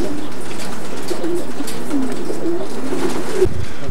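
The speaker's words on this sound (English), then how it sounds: "Look at the pigeons." Racing pigeons coo continuously in a stud loft's export holding pens, a low rolling murmur of overlapping calls close by, with a brief louder shuffle near the end.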